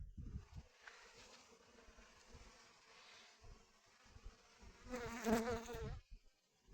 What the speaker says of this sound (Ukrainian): Ось щось тут гудуть бджоли, непонятно, чого вони гудуть.